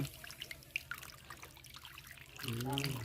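Fresh fish is washed in water, with close trickling and splashing that swells louder near the end, under a faint background murmur.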